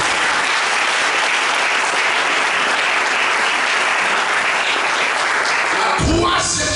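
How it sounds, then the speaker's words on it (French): Church congregation applauding during a Sunday worship service, a steady, dense wash of clapping from many hands that holds strong throughout and breaks up into scattered claps with a few voices right at the end. "Est-ce qu'on peut l'acclamer?"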